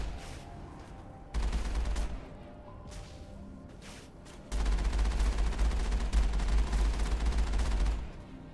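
Weapon fire in the video game Mass Effect comes in two dense, rapid bursts against shielded enemies, a short one and then a longer sustained volley, loud and close with quieter gaps between.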